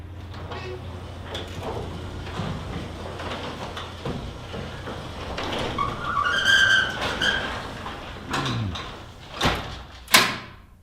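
A LiftMaster 8500W high-lift wall-mount garage door opener closes the door, a steady rolling rumble building midway with rattling panels and ending in a couple of sharp knocks as it seats, heard close and alone.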